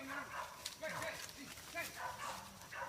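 Several dog barks and yips in an uneven rhythm, moderately close, mixed with voices talking in the background.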